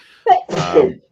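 A woman sneezes once, close and loud, with a sharp inhaled onset followed by a forceful burst.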